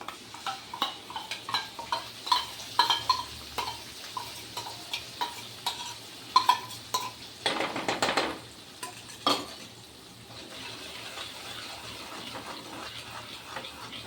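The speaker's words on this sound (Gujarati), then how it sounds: "અને તેલમાં સતત હલાવવાનું, તેલ છૂટું ન પડે ને ત્યાં સુધી" A spoon stirs a yogurt mixture into sautéed onion, ginger and garlic in hot oil for rajma masala, giving repeated scraping clinks against the pan over a soft sizzle and ending in a steadier frying hiss.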